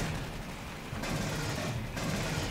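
Rapid gunfire aimed at an alien in the dark in Aliens: Colonial Marines, a dense, steady stream of shots filling the whole stretch with no pauses and no voices.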